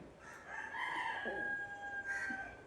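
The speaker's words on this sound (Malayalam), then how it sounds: "ഉച്ചയ്ക്ക് കോഴി കൂകുന്നു ഈ നാട്ടിൽ മാത്രമാണോ" A rooster crows once in a long drawn-out call, heard from a moderate distance against quiet background noise.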